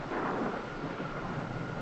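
Thunder rolls as a sound effect in an old science-fiction radio drama, a continuous dull rumble with a hissing wash, steady and fairly faint throughout.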